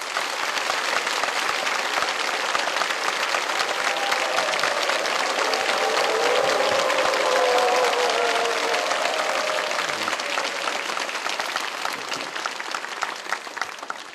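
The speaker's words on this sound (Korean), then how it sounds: "우리 뜨거운 박수로 환영하겠습니다" A church congregation gives a warm, sustained round of applause welcoming a guest pastor, dense clapping that holds steady for a long stretch before gradually thinning toward the end.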